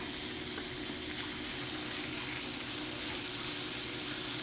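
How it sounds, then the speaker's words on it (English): Raw bacon strips fry in a pan, giving a steady, close, even sizzle that runs without a break and with no voices. "So we're just going to let this sizzle"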